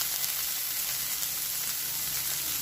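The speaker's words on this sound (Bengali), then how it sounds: "এবার এটাকে ভালো মতো ভেজে নেব।" Chopped green chillies and onion fry in a pan with a steady, close hiss of sizzling oil and no voices, in a chicken Manchurian recipe.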